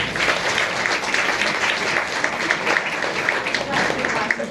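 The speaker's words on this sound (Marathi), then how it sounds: "आपण जोरदार एकदा टाळ्या वाजवूया" An audience at an International Women's Day speech event claps loudly together, a dense sustained round of applause with no pauses.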